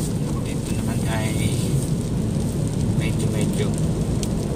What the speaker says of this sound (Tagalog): At medyo mahina ng ulan guys. Ambon na lang siya pero lalakas pa yan mamaya.